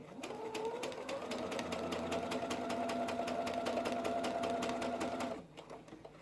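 Sewing machine stitching a cotton face mask, a close, fast, even mechanical whirr with a rapid needle rhythm, running for about five seconds before stopping abruptly.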